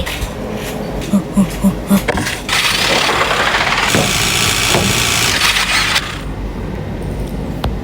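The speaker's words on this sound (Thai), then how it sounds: "เสียงรถใคร" A car engine revs up loudly and holds a steady roar for a few seconds, then cuts off, with a few soft thumps before it starts.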